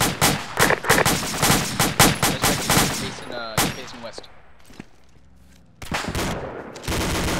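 Heavy machine gun fire from a DShK mounted on a technical, loud rapid bursts of booming shots that break off for a few seconds and then resume, with a voice shouting in alarm.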